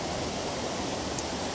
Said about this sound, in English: So we're at Clare Glen waterfall, and there's a series of cascades all up and along here